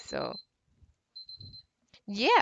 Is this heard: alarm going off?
yes